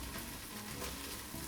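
Onions and tomato paste fry in a pan for a curry with chicken, giving a steady, close hiss of sizzling with no voices.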